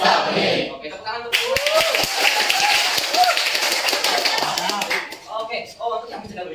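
A group of people clapping hands after a school anti-bullying presentation, a burst of brisk applause in the middle with voices talking before and after.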